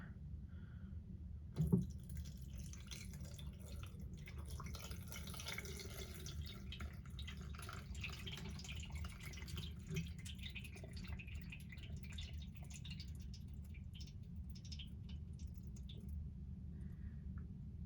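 Water leaking from a Samsung Flexwash washing machine falls in soft, sparse drips and small squishy splashes over a quiet low hum, with one sharper splash early on.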